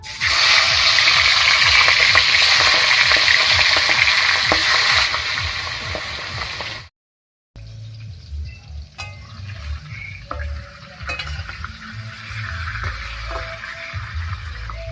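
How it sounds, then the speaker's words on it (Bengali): Fish heads frying in hot oil give a loud, dense crackling sizzle, which then cuts out briefly and returns as a quieter, steadier fry with occasional clinks. "তেল গরম হয়ে গেছে মাছের মাথাটা ভেজে নিচ্ছি"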